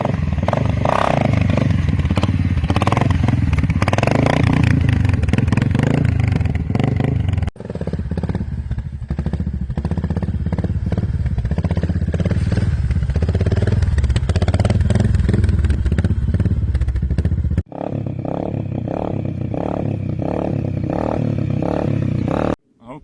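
An ATV engine roars loudly and close during a slow wheelie, the throttle held with uneven rising and falling revs, broken by brief cuts in the recording.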